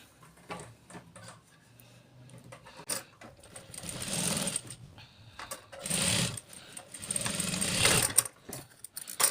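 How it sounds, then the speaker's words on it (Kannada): A sewing machine stitches a folded dori cap in short, rapid bursts of needle chatter separated by pauses, close by and fairly quiet, with no talking. "ಈಗ ಸ್ಟಿಚ್ ಮಾಡೋದು"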